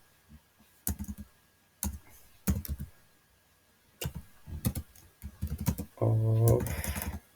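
Computer keyboard typing while coding a React app: short bursts of quick clicking keystrokes separated by pauses, close and fairly faint, with a louder thump and brief clatter near the end.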